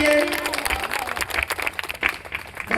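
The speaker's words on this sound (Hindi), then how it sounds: "एक बार जोरदार तालियां बजाइए" An audience at a Hindi kavi sammelan of humorous and satirical poetry claps in a steady, fairly close patter of hands lasting a few seconds, with voices mixed in.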